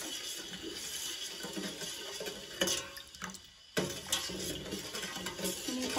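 A spoon stirs milk in a pan while it heats for homemade condensed milk, giving soft continuous swishing and scraping with a few louder knocks against the pan, close by and with no talk.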